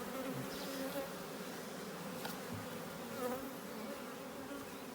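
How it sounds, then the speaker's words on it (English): Honey bees swarm around an open hive box during a beekeeper's honey-production work, making a steady, dense buzzing drone that holds unchanged throughout at a fairly faint, even level, with no talking. "There's a lot of bees left in the box,"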